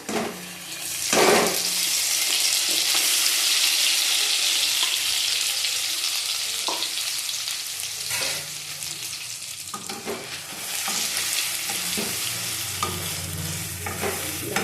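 Ground taro paste hits hot oil with nigella seeds in a kadai, giving a loud, continuous close sizzle with occasional scraping stirs and clinks.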